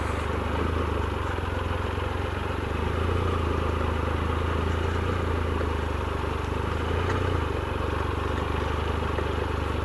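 Motorcycle engine chugging steadily at low revs while riding winter trails, a continuous close, loud drone throughout with no throttle bursts.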